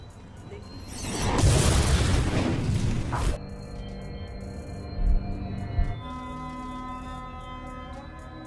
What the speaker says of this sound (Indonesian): Terjadi ledakan akibat rudal yang entah dari mana datangnya